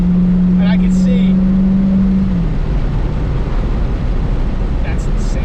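A Dodge Charger Daytona Hellcat accelerates, its engine roaring loud and steady for several seconds under a strong wind and road rush, with the pitch settling as the run goes on and people talking over it.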